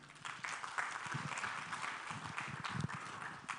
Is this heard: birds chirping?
no